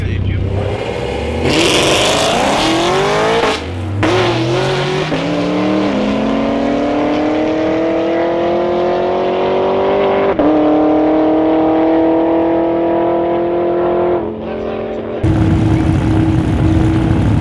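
A Dodge Viper ACR launches hard at a drag race at Rocky Mountain Race Week, its loud engine revving up and climbing steadily through the gears, with a brief shift break and a final roar near the end.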